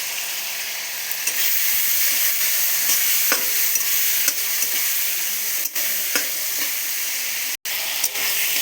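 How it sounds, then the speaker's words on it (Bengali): Spices with cardamom and cloves fry in a pan with a little water, giving a steady bright sizzle broken by occasional sharp clinks of a utensil stirring against the metal. "অল্প একটু জল দিয়ে ভেজে নেব। দিয়ে দেবো এলাচ আর লবঙ্গ।"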